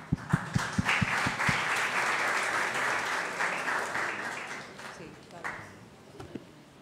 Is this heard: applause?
yes